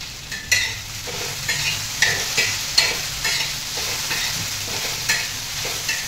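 Sliced okra with salt is stir-fried in a pan, with a steady close sizzle and a regular rhythm of spatula scrapes and stirs about every half second.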